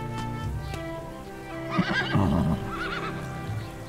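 A horse neighs with a wavering whinny over a steady tonal music bed, fairly close and moderately loud, with no talk during the call.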